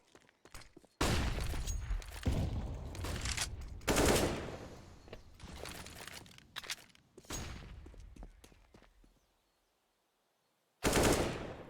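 Rapid automatic gunfire from a Counter-Strike match on the Inferno map, loud and in bursts. Sustained sprays alternate with short pauses and single shots, then a silent gap before another loud burst.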